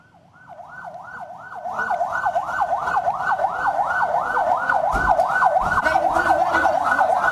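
An ambulance siren wails in a fast rising and falling warble while carrying poisoned high school students in Cipongkor, West Bandung, growing louder as it nears, with road traffic rumbling underneath.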